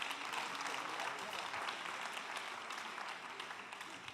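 An audience at the Climathon 2018 closing ceremony gives a big round of applause, a dense and steady wash of many hands clapping that stays even for several seconds, fairly distant, with no talk over it.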